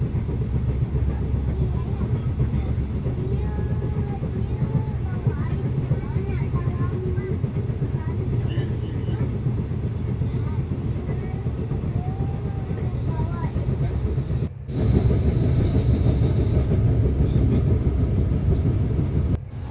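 KTM train travelling on railway, a steady loud rumble and rolling clatter heard from inside the carriage, with faint voices underneath and a brief dip before the noise swells again.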